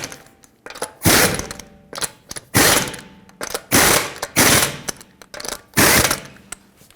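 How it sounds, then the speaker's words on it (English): A ratcheting wrench tightening lug nuts on a 2011-2014 Hyundai Sonata wheel after a front caliper replacement, heard up close as about six loud bursts of rapid clicking separated by short pauses. "Put back all 5 of your lug nuts, snug them up, and torque them to 80 foot-pounds."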